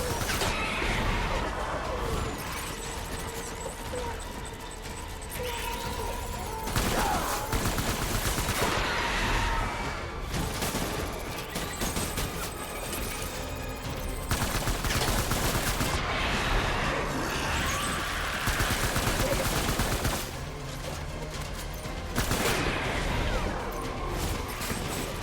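Sustained video-game gunfire in Death Stranding, dense bursts of automatic shots and crashes layered over loud battle noise and music, continuous without pauses.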